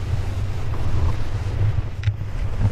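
Strong wind buffets the microphone high on a via ferrata climbing route up a tall rock face, a steady low roaring rumble that fills the whole stretch with gusty swells and no voices.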